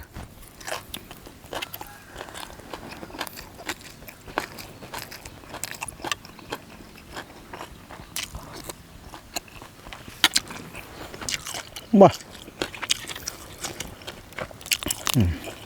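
Crispy pork skin bitten and chewed with loud, irregular crunches and crackles that repeat steadily over the whole stretch, close up and without talk, during a meal of red ant egg curry with wild sweet leaf and a spicy bean salad.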